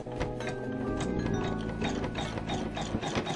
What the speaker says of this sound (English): you're going to sew a tack down stitch